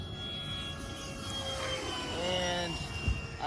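RC model airplane with retractable landing gear taking off, a high whining motor pitch rising and shifting outdoors, with people talking over it and a short bump near the end.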